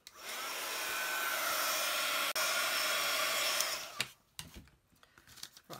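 A hair dryer runs at a steady high whir for about four seconds while drying a paper craft project, then cuts off and leaves quiet handling noises.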